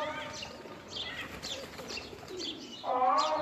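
Teddy pigeons of the Mian Nazir bloodline cooing: soft, repeated throaty coos close by, swelling into a louder coo at the end.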